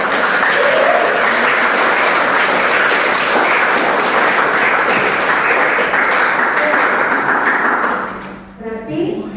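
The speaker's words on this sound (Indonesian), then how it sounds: "Tepuk tangan ya." Audience applause at a vocational high school (SMK) talk: dense, steady clapping from a crowd lasting about eight seconds, then thinning out and fading at the end.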